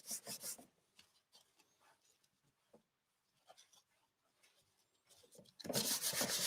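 Sanding an antique wooden end table by hand, scratchy rasping strokes that come and go softly, then a louder, sustained grinding rub near the end.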